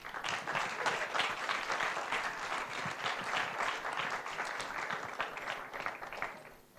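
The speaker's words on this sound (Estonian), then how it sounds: "Aplaus!" Audience applause at a student company awards event, a dense burst of many hands clapping that holds steady for several seconds and then tapers off near the end.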